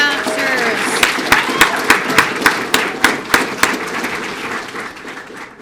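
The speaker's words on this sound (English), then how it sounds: "one more round of applause for all our new officers" At a police swearing-in and promotion ceremony, a crowd claps for new officers; a voice briefly at the start gives way to a round of applause with a few crisp, rhythmic claps standing out before it fades.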